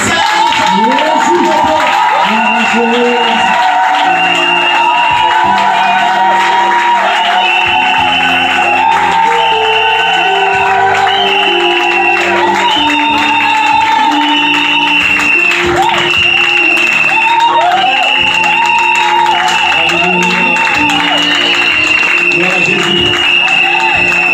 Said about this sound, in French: On va recevoir sous vos ovations le prophète des nations